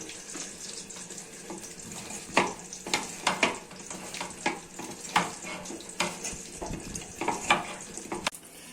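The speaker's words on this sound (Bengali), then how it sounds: "এখন চাক ভাজি করতেছি।" Chak fritters, small fish coated in salt, turmeric and chili powder, frying in hot oil in a pan, giving a steady soft sizzle broken by sharp spatters and scraping stirs, close and fairly quiet with no talk.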